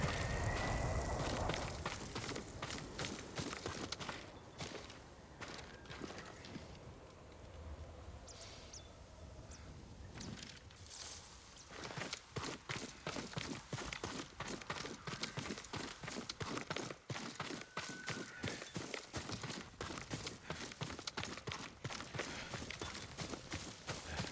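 A horse's hooves clip-clop at a steady pace in the samurai action game Ghost of Tsushima, loud and close at first, softening for a while, then returning as a dense, even run of hoofbeats.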